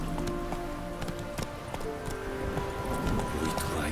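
Roach, the horse in the video game Witcher 3, galloping with a quick rhythmic patter of hoofbeats over a dense background wash that resembles rain, steady and moderately loud throughout.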